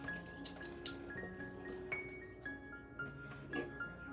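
Liquid drains and splashes from half-full cans into a sink while cooking a garden-style spaghetti sauce, with steady running and trickling water, a few light clinks and no talking.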